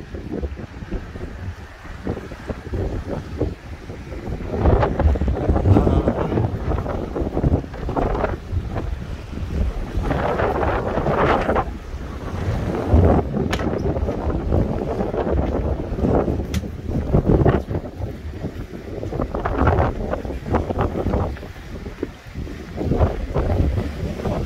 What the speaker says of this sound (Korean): 지금 이 바람이 굉장히 시원해요